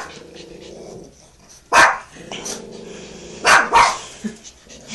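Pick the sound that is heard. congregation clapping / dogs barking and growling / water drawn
dogs barking and growling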